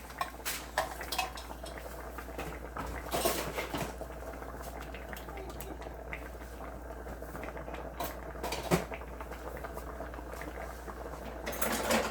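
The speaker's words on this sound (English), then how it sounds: "you see that's boiling nice and heavy" A pot of creamy chicken noodle soup made with cola bubbles quietly under a low hum, punctuated by scattered clinks and scrapes of metal utensils against cookware.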